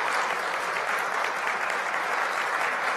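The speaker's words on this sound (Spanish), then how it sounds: "Le pido un aplauso para ellos también" Steady, dense audience applause at a ceremony where the president-elect of the Dominican Republic receives his certificate, a continuous wash of clapping from many hands with no voice over it.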